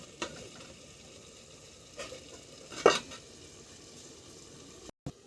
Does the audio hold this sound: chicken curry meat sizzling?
yes